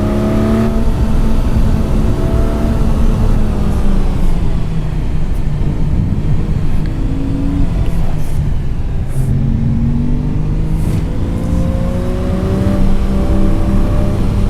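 Simulated Porsche racing engine on the Targa Florio road course, a loud, continuous drone that rises and falls through gear changes and revs, close and unbroken for the whole stretch.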